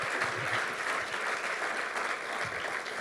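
A church congregation applauds, a steady, dense patter of many hands clapping at a moderate distance, sustained without a break.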